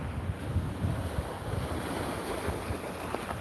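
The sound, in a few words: ocean waves at the beach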